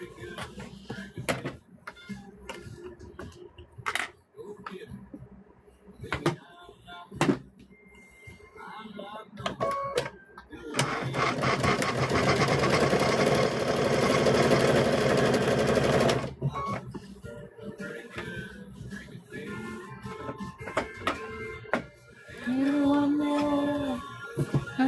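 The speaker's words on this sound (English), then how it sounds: "We are going to sew that strip with a 1/4 inch seam right here, right quick." A sewing machine stitches a quilt binding strip with a quarter-inch seam, a close steady whirring run of about five seconds between scattered handling clicks, with a shorter burst near the end.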